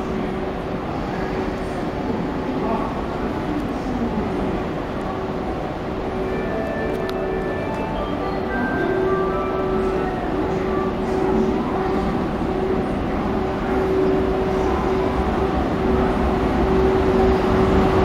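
The Nihonkai sleeper express train rumbles steadily with a sustained hum and faint squeals building as it pulls away from Osaka station; a station announcement voice sounds faintly in the background.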